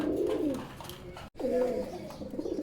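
A pair of local king pigeons cooing close by: two drawn-out, low throaty coos with a warbling tremor, separated by a brief dropout, alone without talk.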